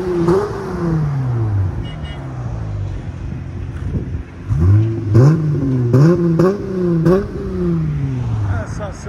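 A 2023 Dodge Challenger SXT with the 3.6L V6 and Magnapack exhaust revs repeatedly, rising and falling in pitch as it winds up several times, loud and close, with some wind noise and talking over it.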